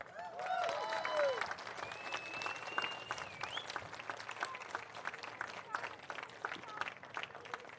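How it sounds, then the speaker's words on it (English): Round of applause from a gala audience honoring Anam Cara awardees at an Irish community event, dense and steady throughout, with scattered voices and whistles mixed in. "I would like to ask everyone to have another big round of applause for our Anam Cara awardees."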